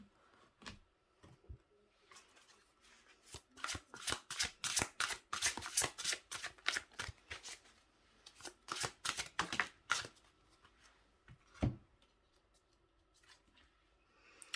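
Tarot cards being shuffled up close, a run of crisp riffling flutters that grows dense in the middle, then thins to sparse taps and slides.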